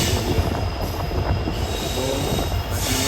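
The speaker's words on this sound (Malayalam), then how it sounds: "മല്ലൂർ സെൻട്രൽ കന്യാകുമാരി പരിസരം 1:18 വണ്ടി പ്ലാറ്റ്ഫോം നമ്പർ 4ലേക്ക് കയറിക്കൊണ്ടിരിക്കുകയാണ്" A Kanyakumari passenger train rolling into platform 4 at Shoranur Junction: a loud, close, steady rumble of wheels on rail with a high, drawn-out wheel squeal and faint clacking throughout.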